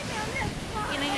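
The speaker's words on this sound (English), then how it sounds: "You got these really high waves." High surf crashing on a flooded beach during heavy rain, a dense continuous roar of water and rain filling the whole clip, loud and close, with possible voices mixed in.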